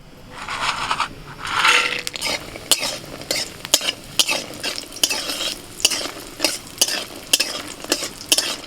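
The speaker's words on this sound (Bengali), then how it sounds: "বড়িগুলো ভেজে নিই।" Lentil dumplings (bori) fry in a pan with a steady sizzle, punctuated by regular metallic scrapes and taps of a spatula stirring them, close and fairly loud with no talking.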